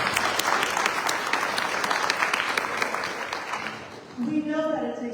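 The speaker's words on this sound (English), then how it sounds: "let's give them a round of applause" An audience claps steadily for several seconds, a dense patter of applause that fades out as a voice begins speaking at the end.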